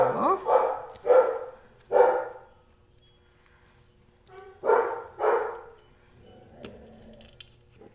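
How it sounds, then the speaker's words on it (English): A household dog barks indoors, five sharp, fairly close barks in two groups separated by a quiet pause, with a few faint softer sounds afterward. "you'll probably hear my dog in the background"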